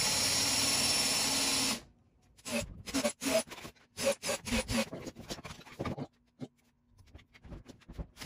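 A power drill whirs steadily for a couple of seconds while drilling into wood for a step stool, then stops, followed by a series of irregular scraping and clattering knocks nearby.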